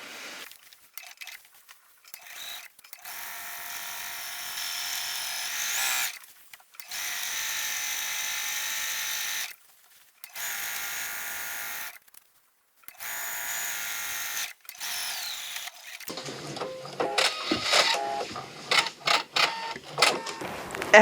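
A sewing machine stitching a band around a dress neckline runs in several bursts of steady whirring, separated by short pauses, with close handling noises near the end.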